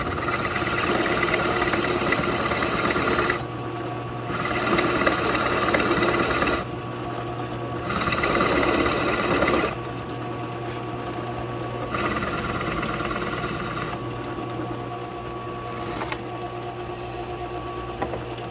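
Router with a 1¼ inch bit hogging out beetle kill pine for a guitar body, a steady loud whine that dips and surges as the cut load changes, with no talking.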